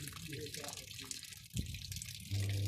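Old red coolant drains from a truck radiator in a steady splashing stream, close and fairly loud, with a faint background voice and a brief knock partway through.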